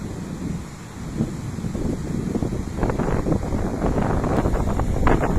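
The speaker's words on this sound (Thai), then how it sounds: "คลื่นแรงลมมันแรงครับ" Strong sea wind blasts across the microphone while heavy waves surge and break nearby at low tide. It makes a loud, continuous roar that swells and builds toward the end, with no one talking.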